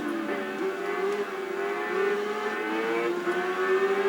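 Motorcycle engine racing on Trial Mountain in the Tourist Trophy video game, a steady high-pitched whine that rises and falls slightly as the bike holds speed, heard alone.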